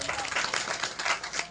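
Brief, faint applause from an audience at a devotional bhajan satsang gathering, a soft, dense patter of many hands lasting only a moment.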